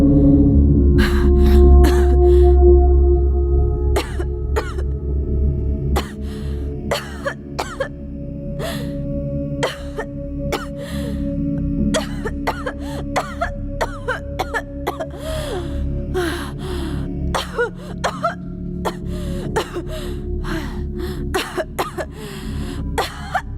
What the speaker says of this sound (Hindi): खांसी को थोड़ा कंट्रोल करो ना प्लीज